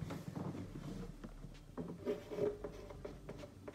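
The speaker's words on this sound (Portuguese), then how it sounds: "deixa eu ver se eu tenho um espacinho para escrever aqui para vocês." Someone writing on a board during a lesson, soft scratchy strokes and light taps in irregular bursts, quiet and close, with no speech.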